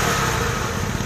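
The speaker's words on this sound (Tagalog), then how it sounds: "Ayan, umandar na naman yung motor." Motorcycle engine running steadily right after a restart during installation of a GPS tracker with kill switch, a continuous close buzzing idle with no talk.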